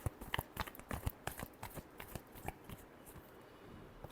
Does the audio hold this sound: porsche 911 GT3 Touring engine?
no